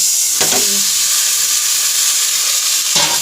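Cabbage goes into potatoes already frying with spices in a pan, a loud, close, continuous sizzle and hiss with a couple of brief stirring knocks, no talking.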